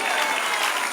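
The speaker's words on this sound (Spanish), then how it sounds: "Dale aplauso, iglesia, al Señor." A church congregation applauds in a steady, dense burst of clapping that fills the whole moment without pause.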